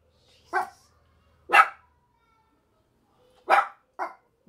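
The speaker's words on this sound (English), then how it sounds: "they're like barking in stereo" A few short, sharp dog barks ring out close by in a quiet room, spaced irregularly and alternating between two dogs.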